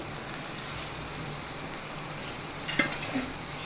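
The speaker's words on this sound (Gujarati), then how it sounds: "હવે આપણે તેમાં જે ગુવાર અને બટેટા તળ્યા હતા તેને એડ કરી દઈશું" Continuous pan sizzle with a brief scrape and clatter as fried cluster beans and potatoes are stirred around, no voices.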